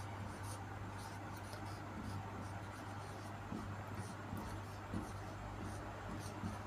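Marker or chalk writing on a board in a classroom, faint scratchy strokes in short bursts over a low steady hum.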